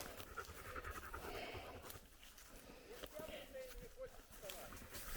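A dog pants hard and fast after running around on a springtime walk through the woods. The panting is close and continuous, with a faint patter of footsteps and soft human sounds underneath.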